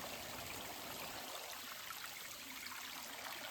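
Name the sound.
water streaming down a mountain trail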